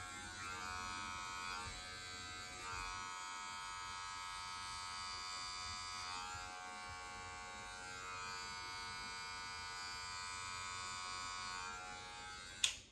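Electric hair clippers buzz steadily through a self-cut taper, a close, constant motor whine with the lever closed, running alone without talk until a brief click at the end.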